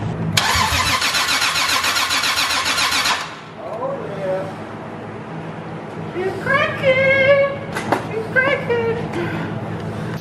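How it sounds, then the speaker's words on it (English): A 2JZ-swapped BMW E36 engine is cranked by the starter for about three seconds, a loud fast churning whir that stops abruptly; a voice follows briefly amid rustling. "I'll just crank it over quick."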